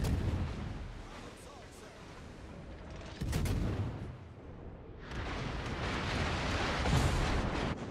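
Heavy naval gunfire from a Montana battleship in World of Warships: deep booming salvos rolling one after another over about eight seconds, loud and sustained, with rumbling tails.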